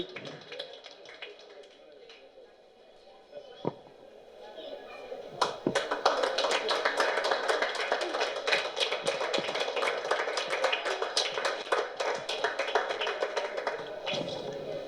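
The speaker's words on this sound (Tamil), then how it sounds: "ஸோ ப்ளீஸ் ஒரு பெரிய பலத்த கைத்தட்டலோடு வித்யா மேடம் அவர்களை" Audience applause welcomes a guest onto the stage at a Golu grand final event in Guduvancheri. A few isolated taps come first, then steady, moderately faint clapping begins about a third of the way in and continues to the end.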